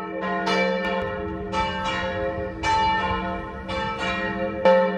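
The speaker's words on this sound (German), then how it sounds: "Also die Glocke hört gar nicht mehr auf." A church bell rings repeatedly near a Viking-era church in Ribe, Denmark, with steady evenly spaced strikes whose resonant tones overlap and hang in the air, loud and close, with no talking.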